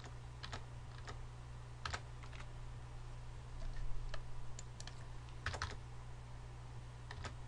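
Rapid clicking of keys on a computer keyboard at close range, typed in short bursts and single taps over a steady low hum, with no talking.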